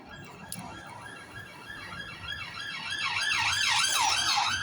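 A police siren wails through town, its rising and falling tone swelling steadily louder as the vehicle approaches, heard alone without voices.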